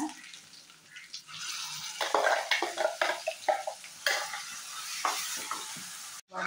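Ground paste poured into hot sizzling oil with garlic in a pan for an Andhra-style spinach and onion curry, giving a loud, steady frying hiss with stirring scrapes and bursts of crackle throughout.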